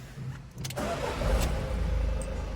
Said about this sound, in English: for your gas tank, you need your engine running